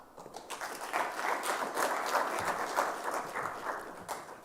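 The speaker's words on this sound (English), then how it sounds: "Please, let's clap again for Philip." Audience at a cyber security conference session breaking into applause that swells quickly and holds as steady clapping, with a faint voice near the start.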